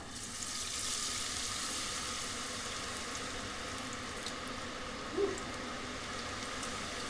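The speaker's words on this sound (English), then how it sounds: "See it frying there?" Funnel cake batter sizzles in hot oil with a steady crackling hiss, close by and continuous, with a faint clink partway through.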